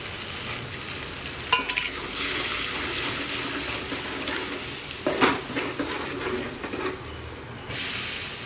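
Chopped onion fries in hot tempering oil for a Gujarati chavanu curry, a loud, continuous sizzle with spatula scrapes and clatters and a burst of spitting near the end.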